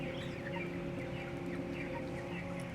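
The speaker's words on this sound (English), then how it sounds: "This chicken is clearly in a bad way, and there's nothing we can do about it." Chickens on a factory farm cluck in a dense chorus, many overlapping calls at moderate distance over a constant mechanical hum from the shed.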